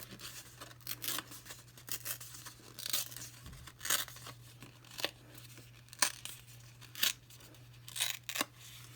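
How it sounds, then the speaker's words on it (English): Paper is torn by hand while making a handmade card, producing a series of short, crisp ripping bursts spaced about a second apart over a faint steady hum, close and fairly quiet. "And then I'm going to tear this piece like this"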